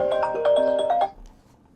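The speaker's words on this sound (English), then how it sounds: "I'm getting a phone call, it seems." A phone rings for an incoming call: a quick run of bright melodic ringtone notes plays clearly for about a second, then cuts off into near silence.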